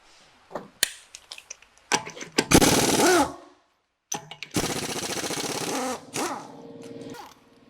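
An impact wrench works on the lug nuts while the front tire comes off a Cadillac XT5, firing in two loud, buzzing bursts with sharp clanks before and between them, close and without talk.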